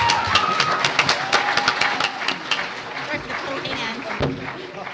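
Audience applause at a business pitch competition event, a steady patter of clapping with some crowd noise throughout, moderately loud, with a voice talking over it.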